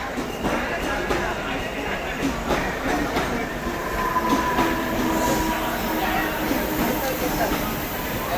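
Train standing at a busy railway platform for the Tutari Express, a steady rumble with metallic rail clatter and a faint squeal, under continuous crowd noise and nearby talk.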